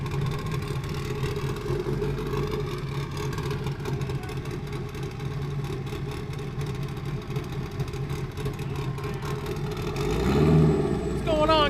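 A turbocharged Camaro and a Chevelle idle and rumble at a street drag racing event, engines droning steadily with a louder surge near the end while an announcer talks over them.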